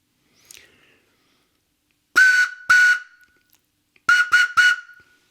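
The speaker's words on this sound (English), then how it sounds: "hopefully this will work as a whistle" Several shrill, piercing blasts from a whistle made from a carrot: two bursts, a pause, then three quicker ones, loud and close, with a faint squeak at the start.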